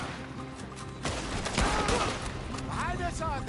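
In Red Dead Redemption 2 a burst of gunfire erupts amid a tense shootout, shots crackling over a rumbling game soundscape while voices talk over the action.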